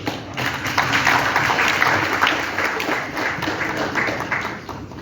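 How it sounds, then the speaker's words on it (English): A congress audience applauds at a Pan-African culture gathering in the Palais du Peuple: dense, sustained clapping from many hands fills the hall steadily for several seconds, loud and continuous with no voices standing out. "Je voudrais qu'on applaudisse encore une fois"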